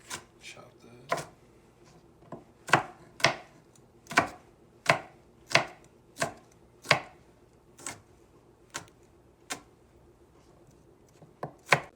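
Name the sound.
chopping an onion with a knife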